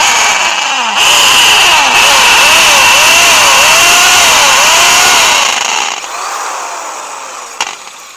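A loud power drill whines steadily up close for several seconds, its pitch wavering as it bores a shallow hole to mount a garage remote keypad, then spins down and stops.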